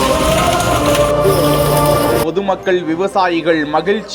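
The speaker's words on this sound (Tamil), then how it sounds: "இன்று மதியம் 3 மணி அளவில் இடி மின்னலுடன் ஆலங்கட்டி மழை பெய்து மக்களை மகிழ்வித்திருக்கிறது" A hailstorm with rain and thunder pours down on a summer afternoon in Tirupattur district, a dense, steady hiss of falling hailstones and rain lasting about two seconds before it cuts off and a voice begins speaking.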